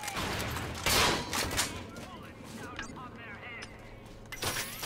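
Scattered gunfire and crackling shots in the video game Lost Planet 2, a sharp burst near the start and then lighter pops and effects, with a voice talking over it.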